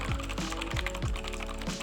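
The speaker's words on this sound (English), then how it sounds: "it's definitely clicky, but it's not the noisiest blue switch that I've heard" Clicky blue switches on a Machenike K7 Bluetooth mechanical keyboard clack under close typing, a quick irregular burst of sharp keystrokes with crisp clicks, fairly loud and alone.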